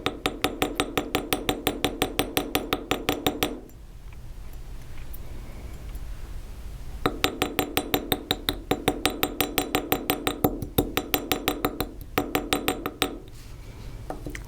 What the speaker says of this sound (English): with riveting, it's really just light tapping and patience